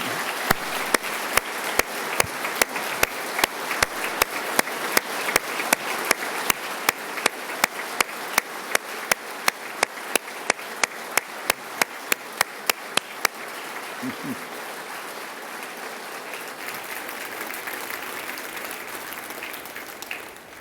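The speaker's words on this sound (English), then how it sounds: "Will you please give her a round of applause?" Audience applause on a House floor during a State of the State address: a sustained wash of clapping with sharp, rhythmic unison claps standing out for about thirteen seconds, then continuing as a softer wash.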